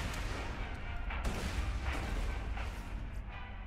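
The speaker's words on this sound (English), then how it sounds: "God, the fucking explosion is so annoying." Repeated explosions in a video game boom and crash in a dense, loud volley over continuous low rumble, with no clear pauses between blasts.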